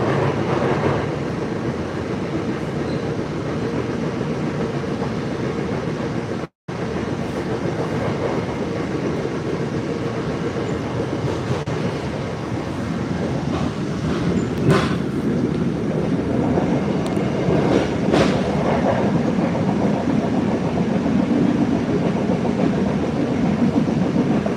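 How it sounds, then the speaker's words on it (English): MBTA subway train running at night, a steady close rumble of wheels on rail with faint clattering joints, continuous and loud throughout with a brief dropout partway. "The train's starting to slow down for the station."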